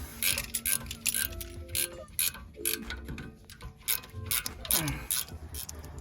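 A ratchet clicks in quick bursts while turning a rear brake caliper bolt on an Acura TLX, the close, crisp pawl ticking interrupted by brief pauses and faint clanks of tools.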